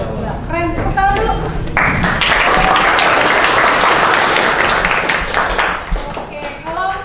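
A classroom of students applauds together, a dense, loud burst of many hands clapping that swells and holds for several seconds before fading, with a teacher's voice just before and after.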